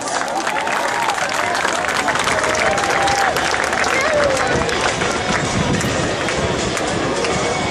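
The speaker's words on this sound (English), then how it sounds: "Please give them a well-worn round of applause" Outdoor crowd at a military open house applauds continuously as US Army Golden Knights tandem parachutists come in to land, dense clapping running throughout alongside a voice over loudspeakers.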